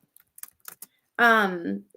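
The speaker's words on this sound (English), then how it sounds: "We're typing that out for you." Computer keyboard typing: a sparse run of light, quick key clicks at close range, then a voice starts talking and the keys stop.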